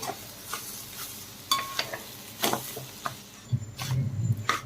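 Raw jackfruit pieces being stirred in a frying pan with a pinch of turmeric, giving soft scraping stirs and light sizzling, close and moderately quiet, with brief utensil clinks and no talking.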